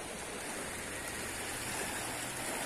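The Cañaralejo river running high and strong after heavy rain, a dense, continuous rushing roar of fast water close by, steady and loud with no voices.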